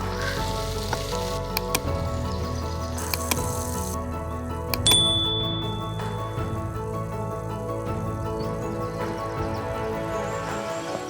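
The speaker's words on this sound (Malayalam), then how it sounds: "ജസ്റ്റ് ചിക്കനിലോട്ട് മിക്സ് ചെയ്ത് കൊടുക്കാൻ നമുക്ക് നല്ലവണ്ണം നല്ലവണ്ണം ഇളക്കി കൊടുക്കണം" Chicken and tomato sizzle in a pan while being stirred, with steady frying hiss and occasional clinks of the spoon against the pan, close and continuous.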